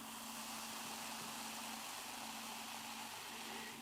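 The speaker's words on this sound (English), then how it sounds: "You can hear that kind of hiss and fizz going on." Steady broadband hiss and fine crackling fizz of ÜberQuell Fruity Flamingo fruit ale in a glass, close and continuous, with no voices.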